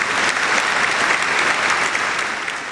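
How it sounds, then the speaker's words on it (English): Dense, steady applause from an audience during a talk-show interview with an Army veteran, loud and continuous throughout, easing slightly near the end. "I'm going to applaud you there"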